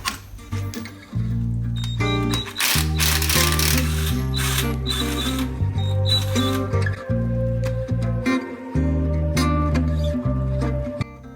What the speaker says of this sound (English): So now we're going to compress the spring.